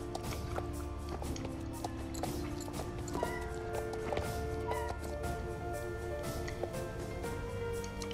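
Horse hooves clip-clop steadily while riding in the video game Star Stable Online, a continuous rhythmic walking gait over background game music, with no talk.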